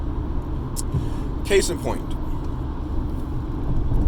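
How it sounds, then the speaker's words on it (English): Low steady rumble of road noise inside a moving car, continuous under someone talking, with a brief whoosh midway. "excuse the road noise"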